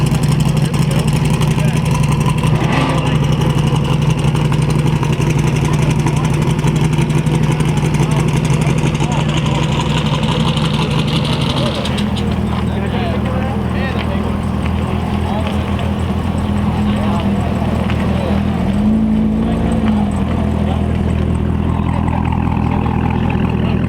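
Car engine at a Cars and Cantina car meet, a loud, continuous low rumble that shifts partway through as the engine turns on and settles into an idle, with people talking over it.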